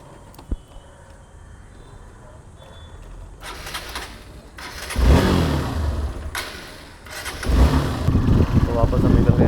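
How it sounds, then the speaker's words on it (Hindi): A motorbike engine starts up on a road near a beach in Goa, a short click followed by a rising engine note that swells into a loud, rough idle and revving, with occasional road noise around it. "तो स्टार्ट किया अपना बाइक"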